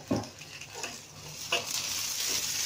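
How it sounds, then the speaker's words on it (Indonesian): Chilies are stir-fried in a pan with a soft, steady sizzle, broken by a few scraping stirs of a utensil against the pan. "Kita tumis cabenya ini sampai harum ya."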